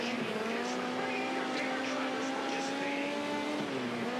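World of Outlaws dirt-track race cars at Millbridge, in a career-mode racing game, roar continuously at high revs, one engine droning close and loud with pitch shifting slightly, no talk over it.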